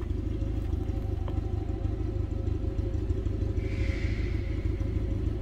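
A 1966 Amphicar 770 rear-mounted engine idles steadily and close, a smooth, even mid-pitched rumble with a faint clatter running unbroken throughout.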